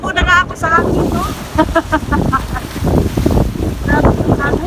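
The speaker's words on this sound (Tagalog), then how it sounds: "Grabe yung hangin." Strong wind gusts blast across the microphone at a beach resort on Maribago, Lapu-Lapu, with surf roaring beneath. The gusts are loud and buffeting, and voices talk throughout.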